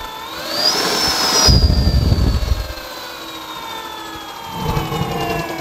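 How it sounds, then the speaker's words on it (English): Electric hub motor of a vintage Vespa scooter with a Retrospective Scooters conversion kit, spinning the rear wheel with a rising then steady high-pitched electric whine, close and fairly loud, with a low rumbling burst as it spins up. "you twist the throttle, and the wheel goes."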